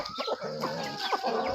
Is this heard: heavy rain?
no